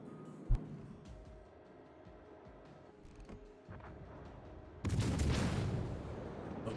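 Naval guns firing in World of Warships Legends, aimed at a Kansas battleship: a sharp distant report near the start, scattered faint booms, then a loud sustained rumbling barrage in the final seconds.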